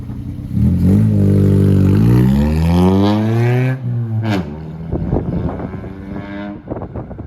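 A 1996 EP91 Toyota Starlet engine revving, rising sharply and holding a loud whine before dropping off, then settling into a rougher, uneven idle, heard close up with some wind noise.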